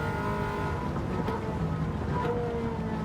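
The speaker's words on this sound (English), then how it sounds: "Ferrari does sound good, doesn't it?" A 1980s Ferrari production car engine roars steadily at close range, a continuous throaty drone with slight shifts in pitch, at Goodwood.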